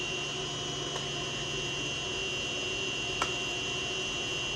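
A Haas VF-3 machine's electric motor running on a VFD retrofit at about 233 volts gives a steady, even whir with high tonal whine lines, broken by two faint ticks.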